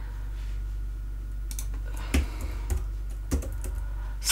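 Computer keyboard typing up close, a few sharp isolated key clicks scattered over a steady low hum, no talking.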